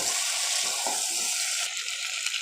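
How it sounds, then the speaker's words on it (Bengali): Pointed gourd and prawns sautéing in a pan with a pinch of sugar, giving a steady close sizzling hiss with a few soft stirring scrapes. "পটল চিংড়িটা কষতে কষতে এখন আমি সামান্য একটু চিনি দিয়ে দেব"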